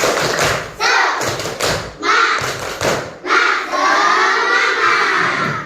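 A school class claps together in a loud rhythmic spirit clap, with bursts of children shouting in unison between the claps.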